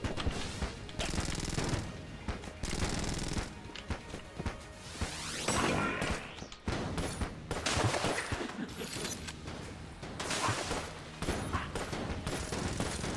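Dense, rapid gunfire and bursting explosions from the video game Enter the Gungeon, a continuous chaotic barrage of shots and blasts with brief dips, heard at moderate loudness.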